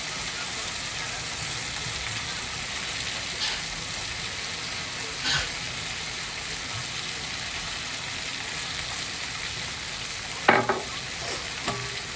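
Chicken chilli with tomato sauce frying in a home kitchen pan while being stirred, a dense steady sizzle with occasional scrapes and a sharp clatter near the end.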